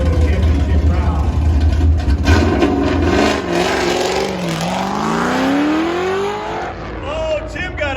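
An autocross car running a timed bye run on a cone course at a desert championship shootout, its engine revving and rising in pitch through shifts, loud and close, with a commentator talking over it.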